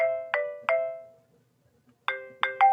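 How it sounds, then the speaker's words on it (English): A phone ringtone for an incoming call, bright repeating chime notes in two short bursts with a pause between, clear and alone. "I got a phone call. Let me answer this."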